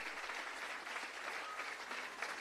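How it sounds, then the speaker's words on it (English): Steady audience applause at a Jamaica Civil Service long service awards ceremony, honouring the constabulary band; dense, sustained clapping fills the whole stretch at an even level with no voices over it. "keep that applause going for the constabulary band as well"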